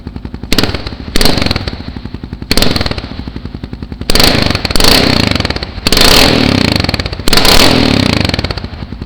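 A Kawasaki KLR650 motorcycle with a Two Brothers M7 aftermarket exhaust revs in repeated bursts, each blip a harsh crackling roar, close by and echoing in an enclosed space.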